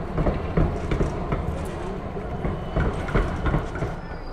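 Yellow Melbourne tram passing along Collins Street in the city centre, a close, loud rumble with rhythmic clickety-clack of wheels over rail joints and faint squeal, continuous for several seconds with no talk.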